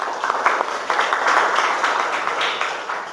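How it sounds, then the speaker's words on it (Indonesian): Pupils in a classroom give a short round of applause for a classmate, a dense patter of claps lasting about three seconds with no talking over it. "Kasih tepuk tangan untuk Dika."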